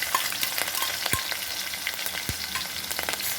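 Crushed garlic and green chilies frying in hot oil, a close, busy crackling sizzle with a couple of soft knocks from the spatula, with no voices.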